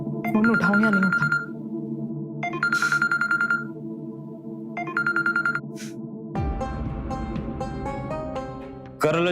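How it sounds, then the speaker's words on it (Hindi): A phone ringtone plays repeated electronic melodic bursts with short pauses between them, then a louder tonal passage takes over near the end. "फोन उठाऊं या नहीं उठाऊं?"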